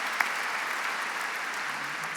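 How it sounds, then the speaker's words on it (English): An audience at a medical fundraising gala applauds, a soft, even patter of clapping from a crowd, fairly distant and sustained for a couple of seconds. "Just one more round of applause."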